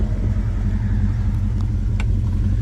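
A 1969 Dodge Charger R/T with about 100,000 miles idles steadily after starting, a loud, continuous low engine rumble close by with faint clicks on top and no voices.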